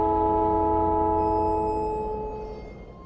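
A train in the video game Factorio rumbles steadily with sustained humming tones, holding level before gradually fading over a few seconds.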